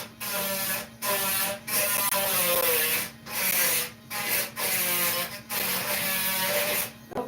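Drill bit grinding into stainless steel, a harsh scraping rasp in repeated bursts with short pauses between, close and fairly loud with no voices.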